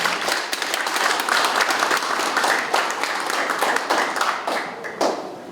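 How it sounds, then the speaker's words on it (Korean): Audience applause at a Korean security and defense-industry seminar lecture, steady dense clapping filling the room for several seconds, with a few sharper individual claps standing out near the end. "감사히 박수 한번 드립니다"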